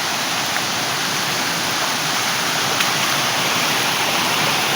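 Waterfall at Raven Falls roaring steadily at close range, a dense unbroken hiss of falling water with no voices.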